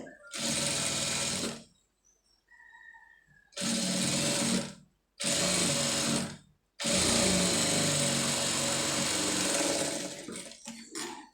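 A sewing machine stitches along the edge of sleeve piping for a Tamil tailoring job, running in several loud, close bursts with short pauses and a faint lull between them. No one speaks.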